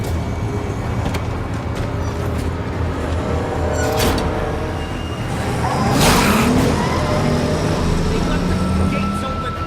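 A car engine idles and rumbles steadily in The Walking Dead game, a loud, continuous drone with a passing whoosh and tire noise partway through, while voices talk over it.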